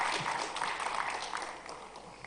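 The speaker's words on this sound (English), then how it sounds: "Can we all give a huge round of applause as we welcome her on the stage" Audience applause at a live tech conference hall, a steady wash of many clapping hands welcoming a woman onto the stage, fairly even throughout and slowly tapering toward the end.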